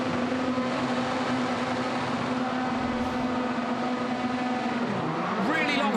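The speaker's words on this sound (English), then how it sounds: "Revs are up, here we go." Rallycross cars at the start of the 2019 FIA World Rallycross finals in Catalunya, engines held at high revs in a loud steady drone, then a pitch dip and rising whine as they launch, with a commentator talking over it.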